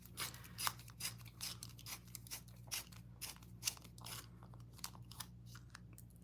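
A pencil being sharpened, giving a steady run of dry, crunchy scraping strokes in quick repeated bursts, close and fairly quiet over a low background hum.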